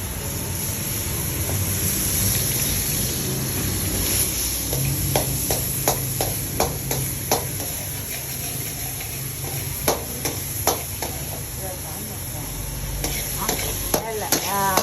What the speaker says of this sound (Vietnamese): Bật chiên nước mắm nha.